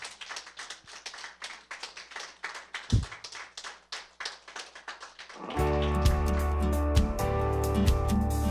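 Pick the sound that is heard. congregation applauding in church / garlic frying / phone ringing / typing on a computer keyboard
congregation applauding in church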